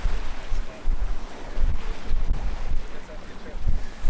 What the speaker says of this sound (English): we are just tacking our way into our anchorage just south of the Rocky Dundas